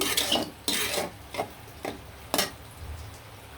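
Chopped onions scraped and stirred through hot oil in a pan while a desi chicken curry cooks, with four or five distinct, fairly loud scraping strokes against a low background and no talking.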